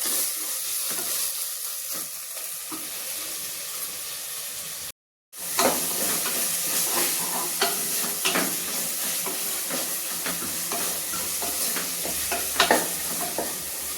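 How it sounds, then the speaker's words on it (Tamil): Tomatoes sautéing in a pan for biryani give a continuous hissing sizzle with stirring scrapes and occasional louder clatters, broken by a brief silent gap midway. "இந்த டொமேட்டோ நல்லா வதங்கி நல்லா மசிஞ்சு வர அளவுக்கு நல்லா நம்ம வதக்கிக்கலாம்."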